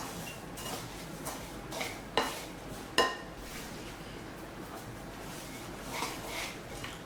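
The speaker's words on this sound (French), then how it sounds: "On mélange tout ça." A spoon stirring a melted chocolate mixture with nougatine in a bowl, soft scraping with a few sharp clinks against the bowl, quiet and close, no talk.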